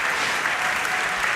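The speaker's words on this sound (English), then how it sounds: "a big round of applause there for Max as he finishes his last solve of the competition" Steady, dense applause from a crowd at the Rubik's Cube WCA World Championship 2025 finals, greeting Max Park's final solve; a continuous wash of clapping holds at even loudness throughout, with no voices standing out.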